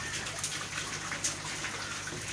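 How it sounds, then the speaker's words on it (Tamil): Rain falling on a hot day, a soft, steady hiss of drops pattering with faint irregular splashes, quiet and distant, no voices. "அடிச்ச வெயிலுக்கு மழை பெய்யுது"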